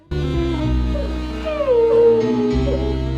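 A dog in a TV episode howls in a long, drawn-out wavering cry that rises and falls over a steady low hum, loud and close.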